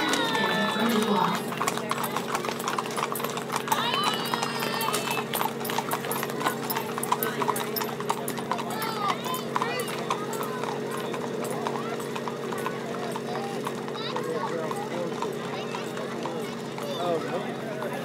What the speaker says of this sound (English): Leading her horse